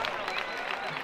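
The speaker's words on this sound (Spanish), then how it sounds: "El aplauso para este muchacho, ahora Picho, regálenlo de corazón" A jaripeo crowd applauds a bull rider with dense, continuous clapping filling the arena, loud and steady through the short moment.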